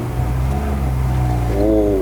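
A BMW E36 325i with an inline-six engine and five-speed manual gearbox hums loudly from inside the car, its steady drone rising in pitch as it revs toward the end.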